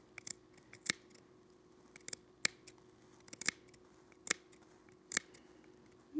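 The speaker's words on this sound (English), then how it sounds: "So I'm going to just clip the rest of this seam and pull it apart" Scissors snip through a faux fur seam in sharp, separate clicks spaced roughly every half second to second, close but quiet, over a faint steady background hum and no talking.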